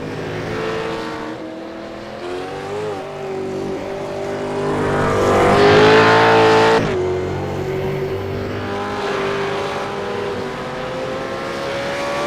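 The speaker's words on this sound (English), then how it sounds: "not far to go now for the Abbey Timbers Holden Commodore to take another win in this V8 Vets series" Holden Commodore V8 race car in the V8 Veterans series at Silverstone, its engine droning loudly and continuously, pitch rising and swelling as it passes close around the middle, then settling back to a steady roar.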